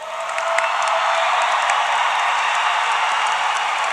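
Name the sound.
applause at a high school graduation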